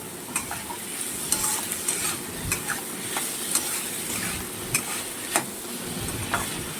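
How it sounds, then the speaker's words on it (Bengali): A spoon works through dal and meat in a frying pan, giving repeated clinking scrapes against the metal every half second or so over a soft, continuous sizzle. "এটা এখন ভালোভাবে নাড়াচাড়া দিতে হবে, যাতে ডালটা কোনোভাবে তলায় না লেগে যায়"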